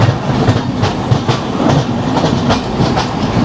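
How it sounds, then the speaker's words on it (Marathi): A local train passes at night, producing a loud, steady rumble of wheels with rhythmic clickety-clack beats over rail joints, heard close from alongside without any talking. "ते लोकल ट्रेन"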